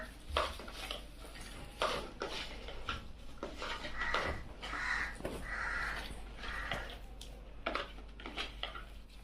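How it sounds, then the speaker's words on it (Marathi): Potato filling for rolls is mixed with chaat masala in a bowl, with soft scraping and clinking of utensils against the dish while crows caw repeatedly in the background. "चाट मसाला घेतलाय तर याच्यामध्ये मी टाकून देते सर्व व्यवस्थित पूर्ण असं मिक्स करून घ्यायचं"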